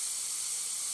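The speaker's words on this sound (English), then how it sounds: "I'll spray the black over it again" Paint spray gun hissing out black paint while painting distant mountains in a pastel sunrise scene, one continuous close, loud airy hiss with no break, no voices.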